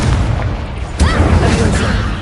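A fire spell cast in the Hogwarts Legacy video game, a sudden loud booming burst with a crackling, fiery swell that rises and lingers for about a second over a dense, rumbling game soundscape.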